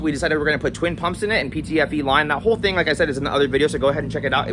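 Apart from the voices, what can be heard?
No everyday noise stands out behind the speech.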